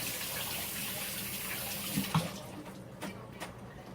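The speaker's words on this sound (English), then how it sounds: "I'm just going to do a quick wash of the hands." Tap water runs into a sink as hands are washed in a home kitchen, a steady close splashing stream that thins out halfway through, followed by a few soft knocks and drips.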